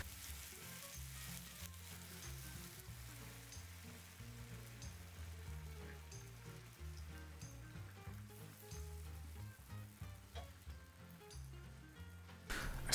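Takoyaki batter with octopus sizzling in a takoyaki pan, a faint continuous sizzle and crackle running under quiet background music, with a sudden louder burst at the very end.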